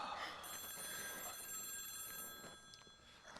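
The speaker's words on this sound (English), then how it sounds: "Well, somebody answer the phone." A telephone bell rings with steady tonal overtones through most of the moment in a room where people are waiting for news, carrying on without pause before easing slightly near the end.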